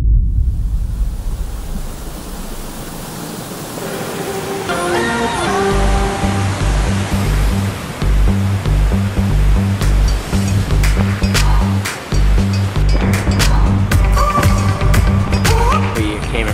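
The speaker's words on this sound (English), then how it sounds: "It's a beautiful, cascading 50-foot waterfall." A cascading 50-foot creek waterfall gives a constant roaring rush of water, with music playing over the steady wash for most of the clip.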